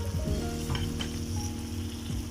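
Sautéed chicken fries in a pan as spices go in, making a steady, close sizzle with a few clinks and stirring scrapes, heard with no talk.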